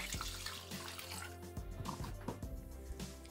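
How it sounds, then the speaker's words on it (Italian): Water runs from a tap into a Thermomix TM6 mixing jug, a steady splashing and gurgling stream with a faint hum underneath, close and alone without talk. "mettere l'acqua"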